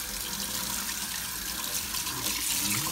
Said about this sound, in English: We can rinse our Windex off.